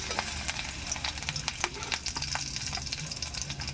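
Squash and meat sautéing in hot oil for ginisang kalabasa, a steady loud sizzle with crackling pops and spatters throughout, close up and with no talking.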